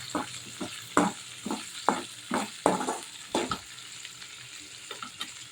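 Chutney ingredients for an okra chutney fry in oil, giving a crackling sizzle that swells and fades in regular bursts as they are stirred, roughly one stroke every half second, close and moderately loud.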